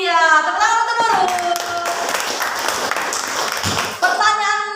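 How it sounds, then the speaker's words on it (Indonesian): A classroom of students claps briefly for a classmate in the middle of a lesson, a dense burst of many hands under voices that speak before and after it. "Iya, tepuk untuk Nurul."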